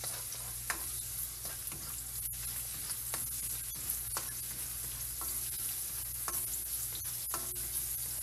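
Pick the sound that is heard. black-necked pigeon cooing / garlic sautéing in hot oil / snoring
garlic sautéing in hot oil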